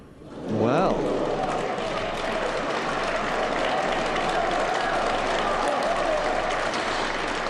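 A snooker audience applauds Ronnie O'Sullivan during a 2006 match against James Wattana, the clapping swelling quickly and then holding as a steady, dense patter.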